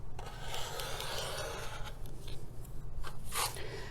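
Rotary cutter rolling along a ruler to trim a stack of fabric for a quilt block, a close, continuous gritty rasping stroke followed by a few short scuffs.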